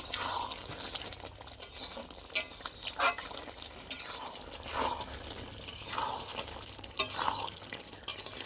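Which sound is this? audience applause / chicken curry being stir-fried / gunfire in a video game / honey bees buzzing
chicken curry being stir-fried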